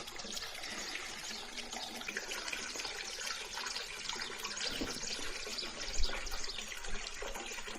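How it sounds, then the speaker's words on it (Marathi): Water from a hot spring at the Tatapani pilgrimage site in Pimpalsond, Surgana, runs in a soft continuous trickle and pour, fairly quiet and close, with a couple of slightly louder splashes near the end. "उन्हाळ्यात एवढा पाणी चालू राहत आहे बरं का"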